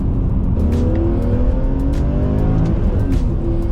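A freshly restored BMW E46 M3 engine revs loudly with a raspy, gritty tone, pitch sweeping up and down as it accelerates, close by.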